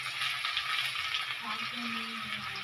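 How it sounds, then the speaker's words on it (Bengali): Chopped garlic sizzles steadily in a hot pan at close range, and partway through onion goes in, the frying tone shifting as it hits the oil. "আমার এই রসুন কুচিটা অনেকটা ভাজা হয়ে গেছে। তো এর মধ্যে আমি দিয়ে দেব পেঁয়াজ"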